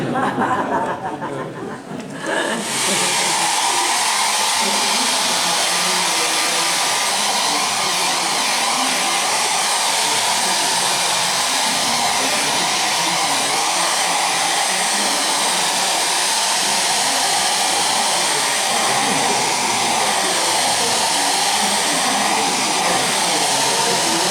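Hair dryer blowing on a painting during an art society demonstration, a loud steady whooshing roar that starts after a brief quieter moment and runs without a break, with faint laughter beneath it.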